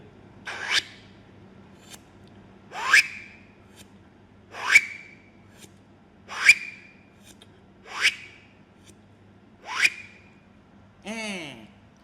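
Six short rising-and-falling scratchy vocal sweeps spaced about every one and a half seconds, followed by a final warbling squeal; a beatboxer imitates a crab record scratch.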